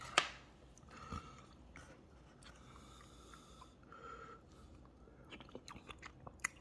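Instant yukgaejang noodle soup being eaten, with soft slurps of spicy beef broth and faint chewing sounds close by in a quiet room, plus a sharp click near the start.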